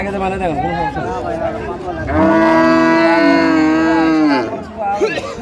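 Dairy cows and calves of improved breeds bellow at a cattle market, one long, loud moo in the middle and shorter lowing before and after, with crowd chatter around.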